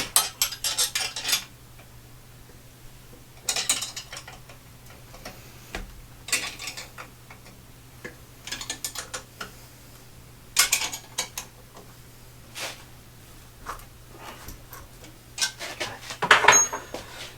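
Metallic clicks and short rattling bursts come from a wrench tightening a V-band clamp on the turbo dump pipe of a Mini Cooper R53, heard in separated bursts with quiet gaps and a low steady hum beneath.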